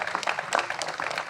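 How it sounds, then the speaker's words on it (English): Brief, moderately faint clapping from an audience applauding British Columbian forestry workers, a short patter of hands with no distinct rhythm. "Give them a round of applause."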